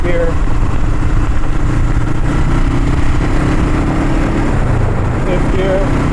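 A 1975 Honda CL360 Scrambler motorcycle runs through its gears on a test ride, a steady low engine drone with a voice talking over it throughout.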